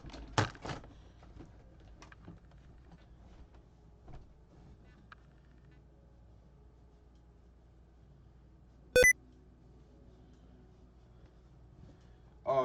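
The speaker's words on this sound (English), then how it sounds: "Why is my shit beeping?" An electronic device gives a short, sharp beep partway through, loud and isolated against a quiet room with faint low rumble and a few scattered knocks.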